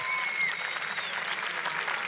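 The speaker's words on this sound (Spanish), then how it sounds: "Ahora escuchamos al equipo japonés ahí aplaudiendo en las gradas de este escenario." Japanese karate team applauding from the stands at a kata competition, a dense, even patter of clapping with faint crowd murmur behind it.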